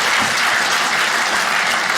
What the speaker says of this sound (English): Round of applause, married folks?